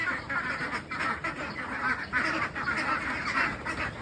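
Thirteen-day-old ducklings give a dense, overlapping run of rapid quacking and honking calls, close and fairly loud, with no pause for about four seconds.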